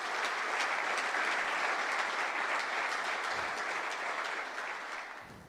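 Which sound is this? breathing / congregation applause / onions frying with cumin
congregation applause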